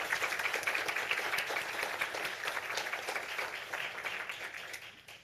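A crowd at a school district board meeting claps for students: a sustained wash of many hands clapping at once, strong at first and tapering slightly toward the end, with no voices over it.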